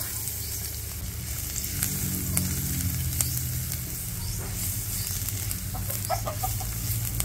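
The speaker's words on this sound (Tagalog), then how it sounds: "Ngayon naman po ay magsasangag na tayo ng kanin. Lalagay na po natin yung bawang." Garlic fries in a pan for fried rice with a steady, close sizzle and occasional stirring scrapes, while chickens cluck in the background of a rural farmside setting.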